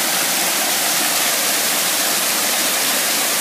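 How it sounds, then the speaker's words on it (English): A waterfall roars in a loud, steady rush of water, close by, with no pauses or other sounds. "It's pretty loud. Yeah, and uh, it uh, looks nice too. We have uh, a couple of nice new uh, waterfalls."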